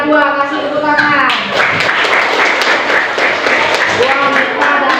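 Classroom applause for the first-place winner, a dense burst of clapping that fills the room at close range, with voices and cheering mixed through it.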